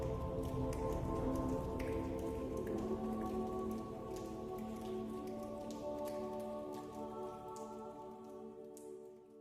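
Rain shower imitated by human voices and body sounds: a dense, steady patter of drops with scattered sharper ticks, quite faint and easing slightly toward the end, with no speech.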